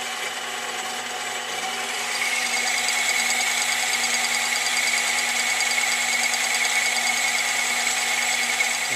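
A machine-shop tool takes a fine cut under slow hand-crank feed while repairing a belt sander part, a steady whirring hum with a high-pitched cutting whine that grows slightly louder after a couple of seconds and then holds constant.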